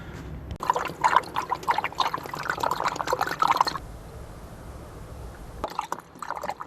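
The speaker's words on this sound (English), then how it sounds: "So I'm going to fill it up with water" Water is poured into a fuel tank in bursts, a close gurgling splash that runs for a few seconds, pauses to a faint trickle, then resumes briefly.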